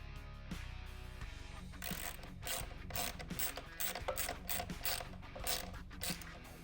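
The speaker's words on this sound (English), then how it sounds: "So instead I'll tighten each nut." A ratchet wrench tightens nuts onto a bolt for the swivel of a small rotating storage bin organizer, giving rapid, close metallic ratcheting clicks in repeated bursts with brief pauses.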